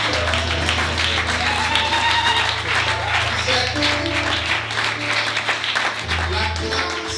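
A church congregation claps and cheers in a steady, dense wash of applause that fills the whole stretch, with sustained organ-like musical tones and low hum running underneath.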